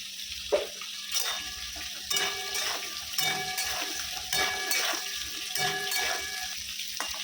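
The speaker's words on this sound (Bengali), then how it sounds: "এদিকে আলু ভাজা হয়ে এসছে" Potatoes fry in hot oil in a home kitchen, a steady close crackle with bursts of louder sizzle and occasional light clinks of a utensil, no voices.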